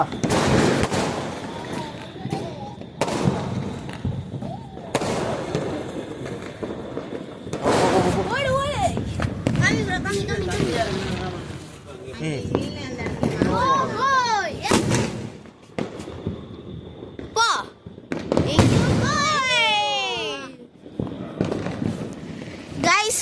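Firecrackers exploding at a Diwali celebration, a series of sharp loud bangs and crackling bursts spread across the stretch, with whistling rising fireworks in between and people, including children, talking and shouting around them.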